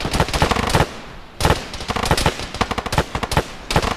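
Rapid bursts of automatic gunfire in a military video game, with dense rattling volleys and a brief lull between clusters of close, loud shots.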